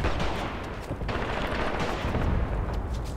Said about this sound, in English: he's shooting at that gun